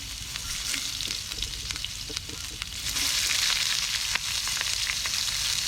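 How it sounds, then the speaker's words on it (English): Sliced onions sizzle steadily in hot olive oil at an outdoor cooking setup, a dense, continuous crackling hiss that swells slightly louder partway through, close and without any voices. "To that, we're going to add our sliced onions."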